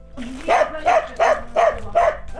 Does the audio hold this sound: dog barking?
yes